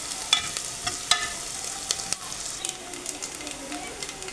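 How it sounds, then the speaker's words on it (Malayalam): Chopped onions sizzle steadily as they are sautéed in a pan for kalthappam, a soft continuous frying hiss with occasional sharper crackles and faint stirring scrapes. "അങ്ങനെ ഉള്ളിയും ഇട്ടിട്ട് നന്നായി വഴറ്റിയെടുക്കണം കേട്ടോ"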